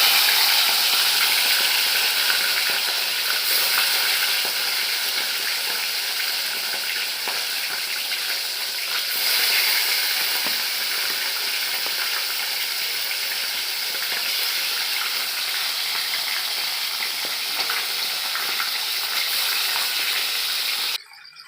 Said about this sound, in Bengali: মাংসগুলো ভেজে নেবো আমি